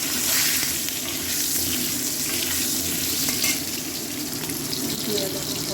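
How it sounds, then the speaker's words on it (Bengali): Whole garam masala, bay leaf and Chandramukhi potatoes fry in hot oil, a steady close sizzle that is loudest at first and then eases slightly, with brief stirring scrapes. "গোটা গরম মশলা ফোড়ন দিলাম, দিয়ে দিলাম তেজপাতা, দিলাম আলু, চন্দ্রমুখী আলু"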